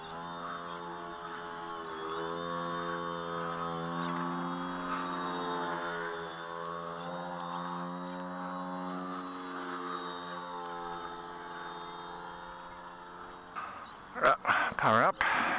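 Twin electric motors on a Mega Wiesel model aircraft whine at full power as it climbs, a steady droning buzz with wavering pitch, ending in a few louder swooping passes.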